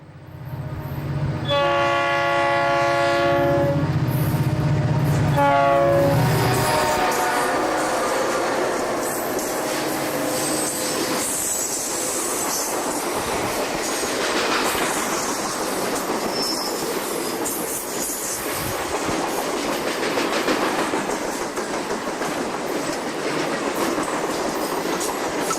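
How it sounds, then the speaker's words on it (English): An eastbound Conrail freight train, about 9,000 tons with 74 loads and 35 empties, passes close and loud, its horn sounding in long blasts at first, then steady rumbling, clattering wheels and squeal as the cars roll by. "Our final Conrail train is eastbound TOMT from Toledo to Metuchen, New Jersey"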